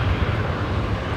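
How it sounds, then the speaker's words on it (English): A Qantas airliner taxis at Brisbane Airport at night, a steady, dense engine rumble held throughout the brief moment. "Qantas 125 heading up taxiway Bravo"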